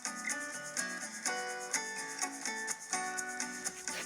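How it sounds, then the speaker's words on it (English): A wire brush scrubs an old GM Co. multitool in steady back-and-forth strokes, roughly two per second, up close and with no voices. "we're going to wire brush it first"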